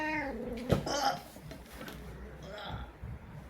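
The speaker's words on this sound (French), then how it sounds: "Mon chat." A cat meows a couple of times indoors, close and fairly clear, with someone talking in French around the calls.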